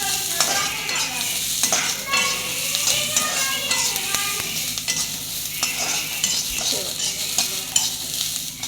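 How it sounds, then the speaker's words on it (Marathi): Chopped onion fries in hot oil in a pan and is stirred steadily, a loud, continuous close-up sizzle with scraping stir strokes, no talking. "असा कांदा भाजून घ्यायचा आहे"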